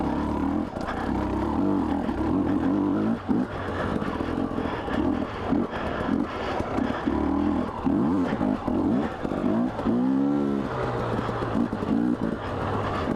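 A Husqvarna TE250i dirt bike engine lugging along a trail at low revs, a steady throaty drone with rising and falling harmonic sweeps as the throttle changes, continuous and close throughout.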